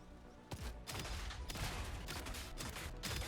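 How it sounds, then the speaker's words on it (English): Rapid autocannon fire from a KF-41 armored vehicle in the building game Trailmakers: a dense, loud burst of booming shots that sets in sharply and keeps rolling with heavy, overlapping impacts and no voices. "Let's use a KF-41 first, which has an autocannon. So it fires something like this"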